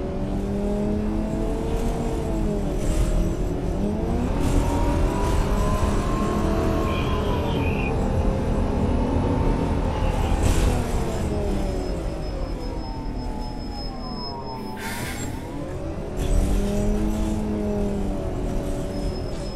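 A MAN Lion's City CNG bus in the Omsi 2 simulator pulls away, its engine rising and falling through several gear changes as it accelerates. The engine drones steadily throughout.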